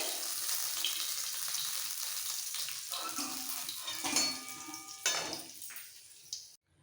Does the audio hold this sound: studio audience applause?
no